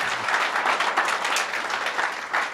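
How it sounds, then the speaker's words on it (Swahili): A seminar audience in Nairobi breaks into applause, a steady wash of many hands clapping at moderate volume for a couple of seconds, continuous without a clear ending. "Kama unataka hiyo mazee, hebu piga tu makofi."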